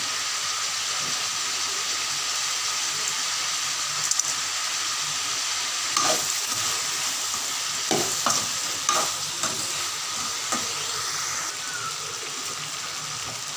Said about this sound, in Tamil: பாருங்கள், காய்கறி நல்லா எண்ணெயில் வதங்கியிருக்கு.